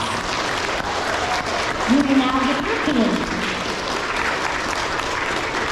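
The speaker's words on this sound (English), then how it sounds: "Let's give these students a round of applause." Steady applause from a crowd at an elementary school awards ceremony fills the whole stretch, with a voice speaking briefly over the clapping partway through.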